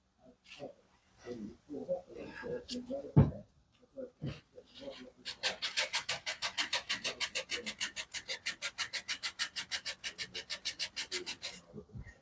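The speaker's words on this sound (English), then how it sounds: "I just need to sand that little spot right there a little bit better" Hand sanding on a wooden console, a quick rhythmic series of scraping rubs following some scattered handling knocks, close and fairly quiet.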